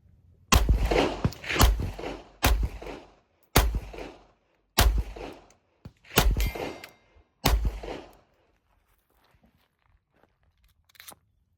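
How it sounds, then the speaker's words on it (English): An unsuppressed 9x18 Makarov pistol fires seven loud, sharp reports into dirt outdoors, spaced roughly a second apart, followed by a few seconds of near silence with a faint tap. "the Makarov unsuppressed. All right, so just firing some rounds into the dirt for comparison here."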